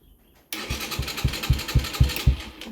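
A motorcycle's electric starter cranks the engine after a moment of near silence, with a steady whir punctuated by about seven rhythmic compression pulses, loud and close.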